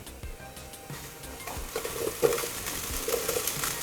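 Washed cauliflower, peas, French beans, carrots and capsicum going into a hot pan for mixed vegetable bhaji, with soft sizzling, stirring scrapes and a few light clinks of utensil against pan, close and moderately quiet.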